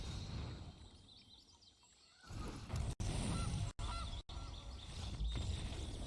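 Goose honk from a digital card game: a few loud, harsh honks after a quiet start, cut by brief silent gaps.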